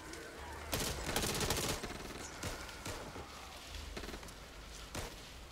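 Gunfire in the zombie shooter video game Back 4 Blood: a dense burst of rapid shots early on, followed by scattered single shots and short bursts, loud and close.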